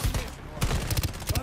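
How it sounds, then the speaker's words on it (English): Gunfire from the video game Shatterline during a cooperative mission, several sharp shots in quick succession with a short lull between them, close and moderately loud. "I'm getting shot through the wall."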